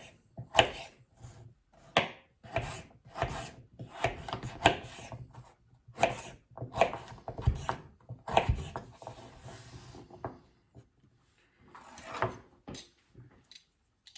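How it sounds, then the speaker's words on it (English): A knife chops potato into dice on a board, giving a long series of crisp, close taps in quick irregular bursts with brief pauses between them. "And again into some nice dices of potato."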